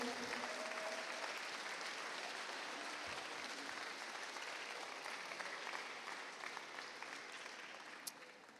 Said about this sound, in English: Really, also, they deserve a big round of applause.